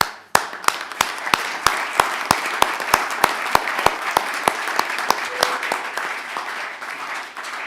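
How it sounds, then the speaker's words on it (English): A round of applause in a council chamber at an annual council meeting, starting with a single sharp clap that swells into steady clapping from the gathered members, then thins and tapers away. "So I just want to ask us all to have a round of applause for Rocky."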